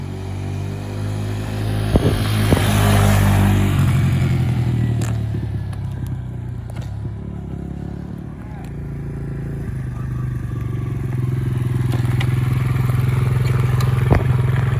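A 2008 Kawasaki KLX 140 dirt bike idles in neutral with a steady low engine putter that rises and settles, close by, with people talking over it and occasional clanks.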